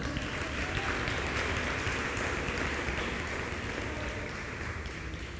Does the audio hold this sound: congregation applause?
yes